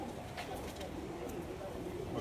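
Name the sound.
pigeon cooing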